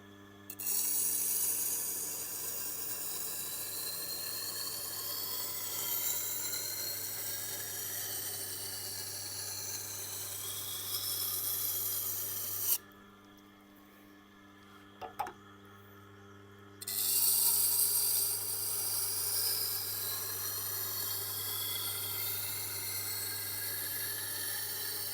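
A knife blade is sharpened on a Tormek grinder, a steady hum from the machine under a scraping hiss of steel on the wheel, which stops briefly midway with a few small clicks before resuming.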